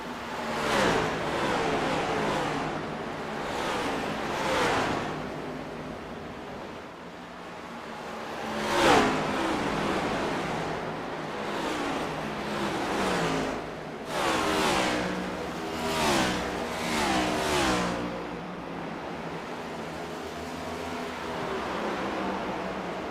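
Race cars roar around Bristol Motor Speedway in a racing video game, engine notes rising and falling in repeated passing surges, some louder bursts standing out over a constant moderate drone.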